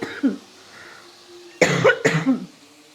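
Several harsh, close coughs in two quick bursts after a small throat clear, set off by strong green chili cooked into a bottle gourd curry.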